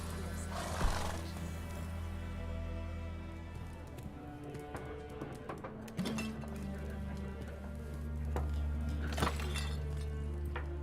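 Geralt's horse Roach in The Witcher 3: Wild Hunt gives a whinny amid hoof clops and clinking, with steady low background hum and brief game voices around it.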